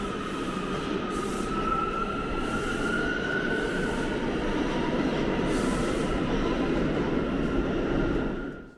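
A New York City subway train rumbles past close by at 190th Street station, a steady loud roar with a rising metallic wheel squeal, fading out at the very end.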